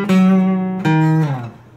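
Opening phrase of the acoustic guitar solo in a song: two picked, ringing notes close up, the second bending or sliding downward as it decays, no voices.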